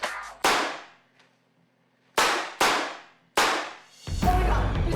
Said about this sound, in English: What she heard was gunshots